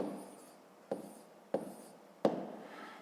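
Pen writing math in a school notebook: soft, close scratching strokes with three sharp taps as the pen lands on the paper, quiet and alone.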